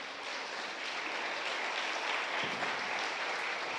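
A church congregation claps together in steady, sustained applause, a dense wash of hand claps filling the room throughout.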